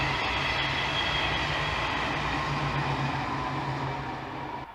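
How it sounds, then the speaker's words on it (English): Train rolling past nearby with a steady, broad rumble and rattle of wagons, loud throughout and easing slightly at the end. "And there's a train coming by."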